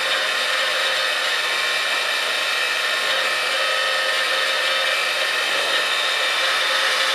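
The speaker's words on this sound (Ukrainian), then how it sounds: "і ми цим феном далі проходимося по всій всій площині" A hair dryer heating shrink tubing blows steadily and loudly, a constant airy whoosh with no pauses or voices.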